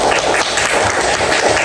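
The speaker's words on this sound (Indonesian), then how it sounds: "Jadi sekali lagi kita tepuk tangan buat kita semua" A classroom group breaks into dense, continuous hand-clapping applause, close and fairly loud, sustained for the whole brief stretch with no talking over it.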